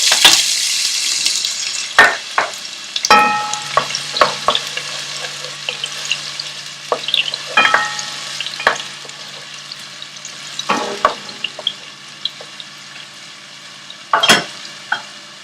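Finely chopped onion in warm oil in a cooking dish, for soyabean and spinach pulao, sizzles with a soft hiss, broken by sharp clinks and scrapes of stirring at irregular intervals, close up and without speech.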